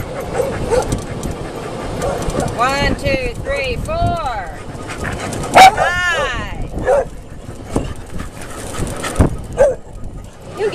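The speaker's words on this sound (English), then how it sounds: "Here's our little pack of dogs." A pack of dogs barks and yips in scattered bursts nearby while a person counts aloud over them.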